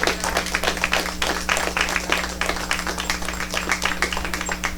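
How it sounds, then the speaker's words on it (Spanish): A church congregation clapping hard and fast, dense overlapping claps with a low steady hum beneath, loud and sustained for several seconds. "Dale un aplauso fuerte al Señor"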